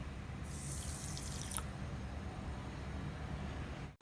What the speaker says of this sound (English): Now we are going to pour the water.